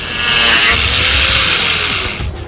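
An electric sander runs steadily, a loud, close, gritty whir with a continuous hiss that holds for the whole stretch before easing slightly at the end.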